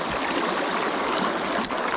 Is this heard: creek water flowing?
yes